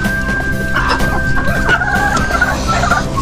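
Laying hens cluck steadily inside a chicken house, a dense, close chorus of overlapping calls with an occasional crow and no talk.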